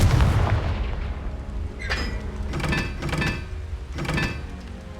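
A fiery blast spell in the Hogwarts Legacy game lands with a deep boom, then several rumbling impact bursts follow at uneven intervals, heavy and close.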